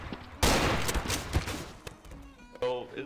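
A sudden loud burst of rapid gunfire in Garry's Mod DarkRP, several sharp cracks in quick succession that taper off, followed by a brief shout.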